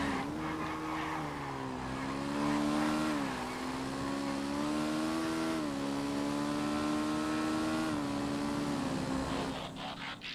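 Schlagen GT race cars in GTA FiveM roar along in a pack, engines droning steadily with gear shifts and rising revs, loud and close throughout.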